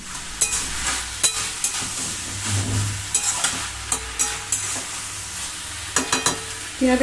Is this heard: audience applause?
no